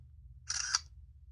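A Nokia 7373 phone camera takes a photo: one short synthetic shutter click of about a third of a second, close and clear over a faint low hum.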